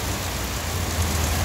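Rain keeps falling on the road under construction at KM4 in La Trinidad, Benguet, a steady broadband wash with a low rumble underneath that swells near the end, no talking.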